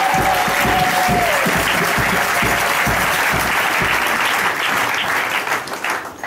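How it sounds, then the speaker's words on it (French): Congregation at a church sermon claps loudly and steadily for several seconds, a dense wash of hands that thins and fades near the end. "Applaudissons fort le Seigneur Jésus-Christ."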